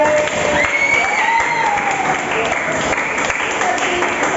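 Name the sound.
audience applause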